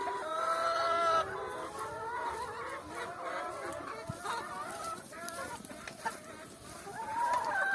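A flock of chickens clucks and squawks steadily, with a few louder drawn-out calls rising above the constant hen chatter.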